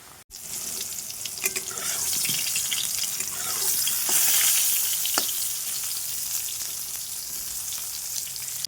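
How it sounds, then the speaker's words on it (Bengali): Hilsa fish cooking in a pan with only mustard and chili, a loud, steady sizzle of frying that carries on throughout, with occasional light clinks of stirring. "আজকে শুধু সর্ষে আর লঙ্কা দিয়ে ইলিশ মাছ রান্না করলাম"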